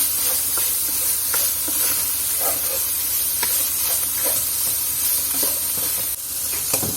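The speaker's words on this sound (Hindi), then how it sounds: "और साथ शिमला मिर्च, और इसको 1 मिनट के लिए हल्का सा फ्राई करेंगे।" Capsicum and chopped onion fry lightly in a pan, giving a continuous close hiss and sizzle with scattered scraping stir strokes throughout.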